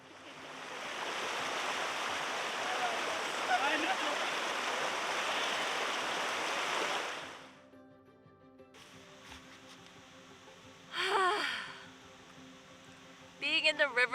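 River water in Switzerland rushes loudly as a dense, steady roar for about seven seconds, then cuts off to quieter surroundings with a few brief splashy bursts.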